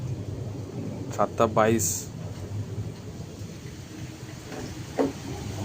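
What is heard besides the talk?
rain pouring during a storm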